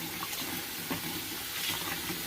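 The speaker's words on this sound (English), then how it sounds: "So we're going to add the rest of our water in here. Just regular tap water." Regular tap water pours steadily into a container while homemade laundry soap is being mixed, giving a continuous broadband splashing rush that holds an even level throughout.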